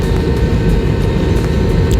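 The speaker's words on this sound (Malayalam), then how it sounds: "ഫ്ലൈറ്റ് എടുത്തു തുടങ്ങി ഗൈസ്" Loud, steady roar of an airplane's engines at takeoff, a dense rumble that fills everything and never lets up.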